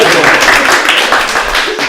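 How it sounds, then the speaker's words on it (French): An audience claps in a room, a close, fairly loud patter of hands that rises and falls over a couple of seconds. "On peut les applaudir, je trouve que c'est pas mal."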